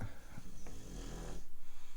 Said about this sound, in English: dog is snoring